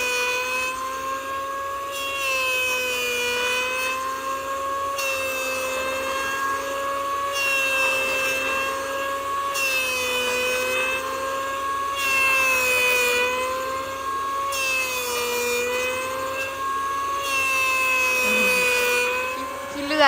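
Wood is sawn as sawdust flies: a steady, droning mechanical whine runs throughout and swells in regular surges every few seconds, loud and close.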